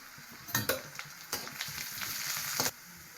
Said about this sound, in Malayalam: എണ്ണ ചൂടായിരുന്നു, നമുക്ക് കടുക് ഇട്ട് കൊടുക്കാം, വറ്റൽമുളക് ഇട്ട് കൊടുക്കാം, കറിവേപ്പിൻ്റെ ഇല ഇട്ട് കൊടുക്കാം